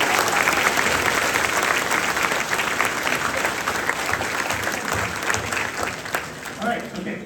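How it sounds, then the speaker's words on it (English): Dense, sustained applause fills a school auditorium at a middle school orchestra winter concert, many hands clapping steadily and close for the student conductor, with faint crowd murmur beneath. "Let's give her just another round of applause."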